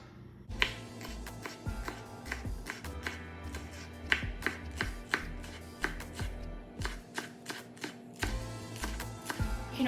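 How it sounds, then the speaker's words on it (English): A knife chops green onion on a cutting board in a home kitchen, giving a long run of crisp, close taps in uneven rhythm, some quick bursts and some single strikes, with no talking. "I'm going to chop up the green onion"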